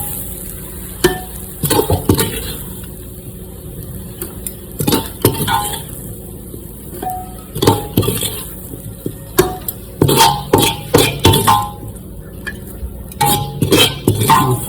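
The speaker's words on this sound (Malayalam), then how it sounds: "കോഴി ചിക്കൻ അങ്ങോട്ട് ഇട്ട് കൊടുക്കാം." Country chicken is added to coconut oil in a pressure cooker and stirred, giving repeated metallic scrapes, clanks and clinks of a utensil against the pot over a faint sizzle.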